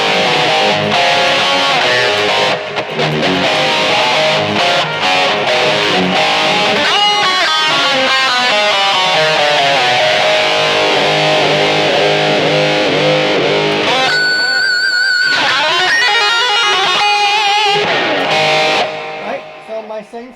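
Distorted electric guitar played through a BOSS eBand JS-10, loud and continuous with chugging riffs, sustained overdriven notes and a brief squealing high lick near the end.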